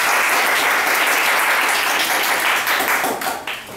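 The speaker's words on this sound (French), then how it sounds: "Je voudrais que vous vous acclamiez vous-même." Church congregation clapping and applauding themselves during a service: dense, loud, steady applause from a large crowd, holding strong for about three seconds before thinning and tapering off at the end.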